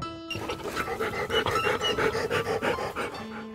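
A dog panting rapidly and close, a rhythmic run of short huffing breaths over faint background music, starting and stopping abruptly.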